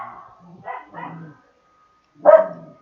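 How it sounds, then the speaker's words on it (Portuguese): A dog's high, shrill barks and yips, a short burst of several near barks, a pause, then one more sharp bark, close by and fairly loud in an indoor room. "Vocês estão ouvindo um latido estridente?"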